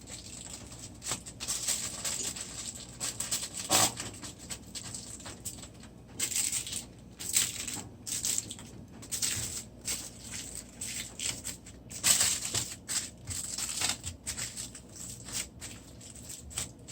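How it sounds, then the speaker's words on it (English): Aluminum foil crinkles and crackles as it is crimped around the edge of a cheesecake pan, giving a steady run of close, papery rustling with louder bursts and no talking. "So you just crimp the crimp the edge of the foil paper."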